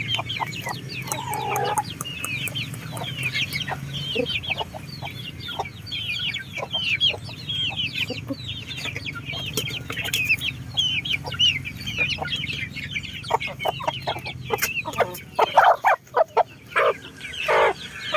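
Free-range chickens in a netted pen cluck busily at feeding time, a dense, continuous chorus of overlapping clucks and calls close by, with occasional louder squawks toward the end.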